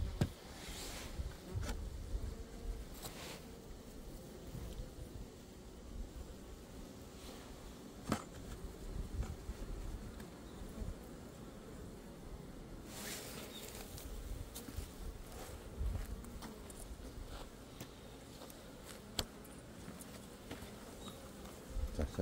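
Honeybees gathered at the entrance of the last surviving hive, readied for winter in November, make a steady low hum that runs throughout, with a few louder close passes by individual bees.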